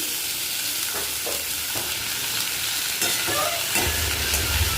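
Potato pieces stir-fry in mustard oil with green chilli and black cumin, giving a steady loud sizzle broken by occasional scraping strokes of the spatula against the pan.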